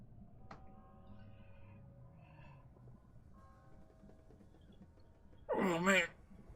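One big drawn-out yawn from a person, loud and close, rising suddenly out of a quiet room hum and lasting about half a second.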